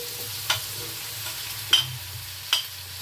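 Vegetables stir-fried in a pan while lunch is cooked: continuous close sizzling with three distinct spatula scrapes or clanks spaced about a second apart, no talking.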